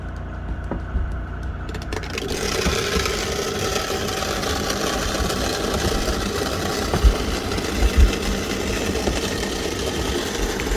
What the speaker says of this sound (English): So you want to see good spinning action, and you want to hear that grinding sound.